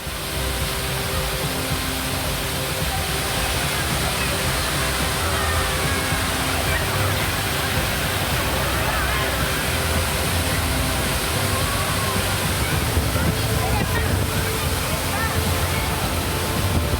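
Rushing waterfall, a steady dense roar of falling water that fills the whole stretch without pause, loud and broadband with no distinct events standing out.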